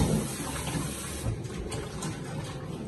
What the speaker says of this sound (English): And then just pour the water out.